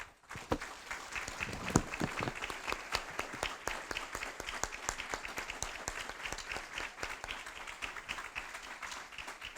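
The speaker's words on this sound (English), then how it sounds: "please join me in congratulating our 2017 MSCPM graduates with a big round of applause" An audience at a graduation ceremony for MSCPM graduates breaks into sustained, dense applause, many hands clapping steadily and fairly close throughout.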